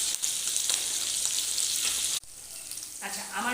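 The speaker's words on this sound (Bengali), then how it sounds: "এটা হোক, পুরোপুরি মাছটা ভেজে আমি আবারও ফিরে আসছি।" Bata fish sizzles steadily in hot oil in a frying pan, a loud, dense crackle that cuts off briefly midway and then resumes with lighter spitting and bubbling.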